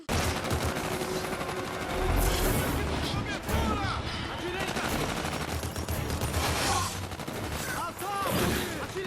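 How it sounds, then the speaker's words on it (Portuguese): Rapid bursts of gunfire and explosive shots fill a battle with monsters in a forest in the animated series Love, Death & Robots, loud and continuous, with voices shouting over the shooting. "E aí o tiroteio começa."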